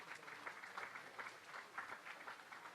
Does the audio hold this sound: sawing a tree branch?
no